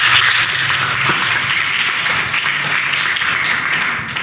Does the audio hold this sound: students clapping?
yes